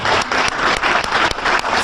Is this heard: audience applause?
yes